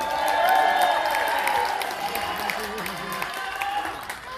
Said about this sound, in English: So give applause for you all.